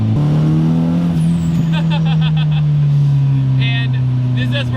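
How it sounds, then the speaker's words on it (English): Idling engine of a Nissan 240SX S14 with a stock SR turbo motor and KA transmission, a steady low drone broken by repeated short hissing bursts of its loud blow-off valve venting, close up. "Crazy loud blow-off valve."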